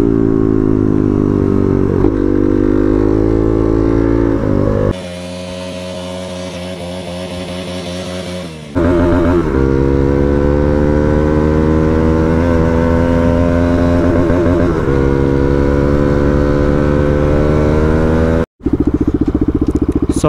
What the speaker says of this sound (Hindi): व्हीली देख रहे हो गाइस, व्हीली चेक करो